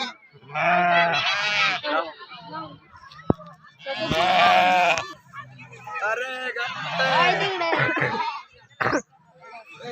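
A flock of sheep bleats repeatedly nearby, several overlapping calls in bursts, with a brief sharp knock between them.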